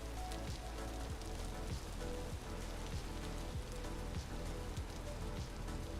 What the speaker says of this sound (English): why this rain is so freaking loud